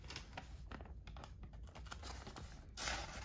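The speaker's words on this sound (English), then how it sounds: "I'm just not even forcing it and it cuts the paper." A sharp matte-finish D2 steel folding knife blade slices through paper, giving soft, quiet scratchy and rustling cuts in quick succession with a brief louder swish at the end.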